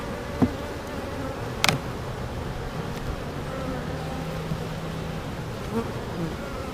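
Honeybees buzz around an open beehive in a steady, close drone, with a few brief clicks and handling knocks over the constant hum.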